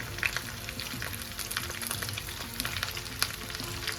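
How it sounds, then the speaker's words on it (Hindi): Okra (bhindi) fries in oil in a pan, a steady soft sizzle and crackle heard up close with a few brief louder pops, no speech. "इसमें भी थोड़ा सा ऑयल ऐड करना है और इसमें मैं डाल दूंगी भिंडी फ्राई होने के लिए"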